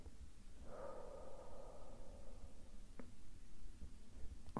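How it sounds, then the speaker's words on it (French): A patient in a medical exam, part of an ASMR roleplay of a full body examination, draws one long, soft, close breath, followed by faint light taps in a quiet room. "Encore une fois, inspirez"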